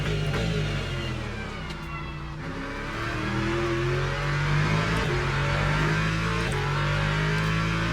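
In the racing game Le Mans Ultimate, a BMW LMGT3 race car engine drones loudly and continuously at near full throttle, its pitch shifting as it climbs through the revs. Nobody speaks.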